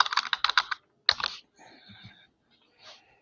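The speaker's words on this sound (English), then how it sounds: "Now people get to hear my keyboard." Close, crisp computer keyboard typing in quick bursts of clacking keys, with short pauses and faint background sound between the flurries.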